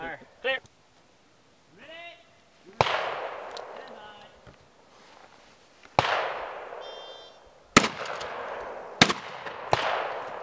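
Sharp, loud shotgun blasts at pepper popper and tire targets on a combat course go off a few seconds apart, each leaving a ringing decay, with brief voices and clanks between shots.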